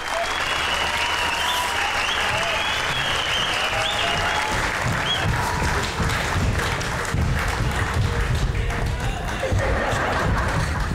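A live audience at a comedy show with a band breaks into loud, sustained applause that holds steady, with a few scattered laughs and murmurs mixed into the clapping.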